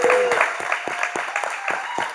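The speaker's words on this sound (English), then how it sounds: "Let's give everyone a round of applause." An audience at the Skool Games event applauding, a run of fairly even claps at moderate distance, with a faint voice in the background.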